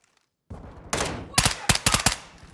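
Gunfire in the video game Call of Duty Modern Warfare 2 breaks a brief silence with one sharp shot, then a rapid cluster of loud, close bursts in quick succession.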